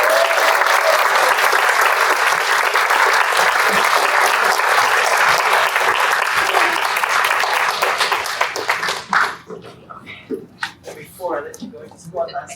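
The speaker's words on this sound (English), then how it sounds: "one last round of applause" Loud, dense applause from an audience at a summit keeps going for about nine seconds, then thins out into scattered claps and murmuring voices.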